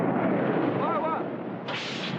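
A submarine fires a torpedo in a colorized war film: a loud, sustained blast and rushing roar, briefly overlapped by a voice.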